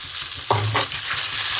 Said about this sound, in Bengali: আলুটাকে একটু লাল করে ভাজবো, এই নুন দিলাম, লাল করে ভাজা হোক।